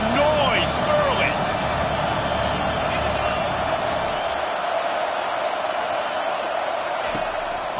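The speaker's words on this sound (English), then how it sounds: "This crowd bringing the energy and noise early." Steady roar of a football stadium crowd at an Ohio State versus Georgia college football game, a dense continuous wash of noise with faint whistles and shouts on top.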